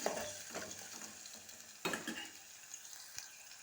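Green chillies and sliced onions are stirred through sizzling oil in a pan for a ridge gourd curry, a soft frying hiss with scraping spoon strokes, one sharper scrape midway, and no speech.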